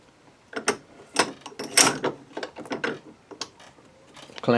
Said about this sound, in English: Now we're going to loosen the clamp, turn it halfway.